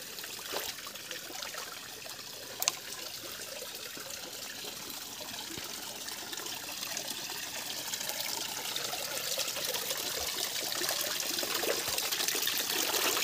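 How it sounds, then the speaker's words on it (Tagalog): A weak stream of water flowing over rocks in the outdoors, a steady close trickle and babble that holds even and unbroken for the whole stretch, with no voices over it. "Pero ngayon, mahina na siya. Pero okay na rin siya. Kahit pa paano, ang mahalaga, mayroon ng dumaloy sa kanyang tubig ngayon."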